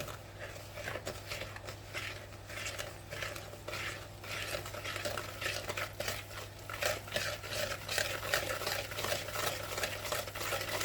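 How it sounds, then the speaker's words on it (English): Cocoa being whisked into melted butter for brownies, a fast, rhythmic scraping and clatter of a whisk against the bowl that builds steadily, close up and without talk. "So I'm going to whisk this until this is nice and smooth."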